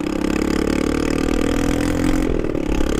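A motorcycle engine with an open, deleted exhaust revs hard, a loud, close, throaty roar holding high before dropping back near the end, with no voices.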